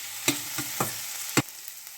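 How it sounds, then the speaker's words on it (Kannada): Chopped onion frying in a pan for rajma curry, a soft steady sizzle broken by four sharp clinks and scrapes of a spoon stirring against the pan, with no one talking. "ಇದು ಈರುಳ್ಳಿ ಫ್ರೈ ಆಗಬೇಕು ಚಲೋ"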